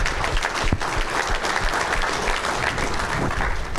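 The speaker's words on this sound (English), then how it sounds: "So round of applause to everybody here for 2025." Audience applause at an awards banquet, a full, even burst of clapping from a large room that carries steadily throughout without talk over it.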